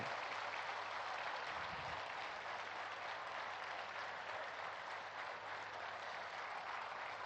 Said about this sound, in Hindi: प्रधानमंत्री श्रीमान नरेंद्र भाई मोदी जी के सम्मान में हम सब तालियों की गड़गड़ाहट कर रहे हैं